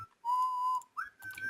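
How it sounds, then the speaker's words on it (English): A person whistles a clear, steady tune in two sustained held notes with a short pause between them, close and fairly loud, with no talking over it. "No, I'm not the one whistling."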